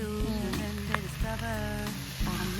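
A spicy stir-fry cooked in a pan at a lakeside campsite, a steady close sizzle with occasional stirring scrapes, while a tonal hum runs underneath throughout.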